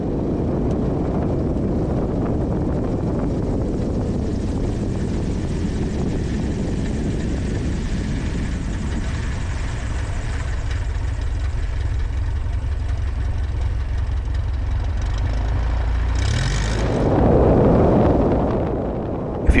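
A Carbon Cub light aircraft lands on a short farm strip, its propeller engine droning loudly and steadily, the pitch and power easing as it slows, then a brief louder surge near the end.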